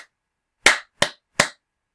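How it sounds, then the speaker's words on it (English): Three sharp hand claps in a simple uneven rhythm, close and crisp, with silence between them and no voices. "If I just clap that."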